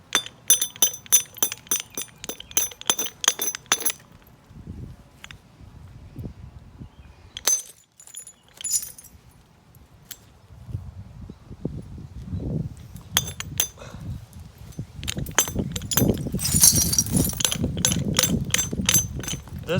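Stone is knapped by direct percussion with a hammer, making clusters of sharp, clicking strikes that come in bursts with pauses between. Softer handling and rustling noises fill the gaps, close by.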